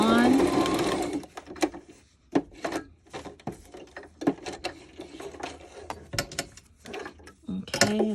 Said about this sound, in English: you can put it on there and then stitch for a little while and then hit the reverse and just do some messy stitching like that